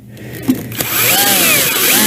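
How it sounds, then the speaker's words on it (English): A power drill fitted with a countersink bit bores into plastic, its whine starting after a couple of brief knocks and then holding steady and loud to the end. "drill down, and with this countersink I don't want to go too deep"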